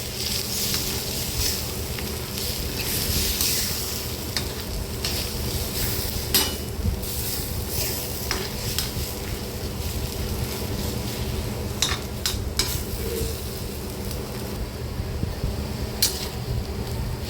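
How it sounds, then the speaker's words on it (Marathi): Egg bhurji with masala being stirred and fried on a griddle pan, a continuous hiss of frying under repeated scrapes and light clinks of a utensil against the pan. "आणि हे सगळं मिक्स करून घ्यायचं व्यवस्थित"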